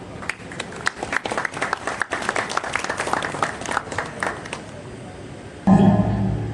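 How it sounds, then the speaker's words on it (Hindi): An audience claps loudly to welcome school students at a Republic Day celebration at an air cargo complex in Mumbai, with dense uneven clapping that fades out before a sudden different sound cuts in at the end. "चलिए पूरे जोश और उत्साह के साथ तालियां बजाकर मुंबई पब्लिक स्कूल विले पार्ले के इन"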